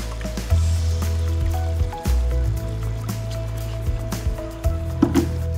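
Water pours steadily into a jug to top up a Trilex EverGol Pulse seed treatment mix, giving a continuous close liquid stream with small splashes and shifts in flow.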